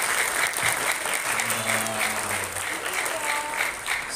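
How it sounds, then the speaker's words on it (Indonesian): Children at a church Sunday school class applaud together in a steady, dense burst of clapping lasting several seconds, with faint voices mixed in. "Tepuk tangan buat Tuhan Yesus."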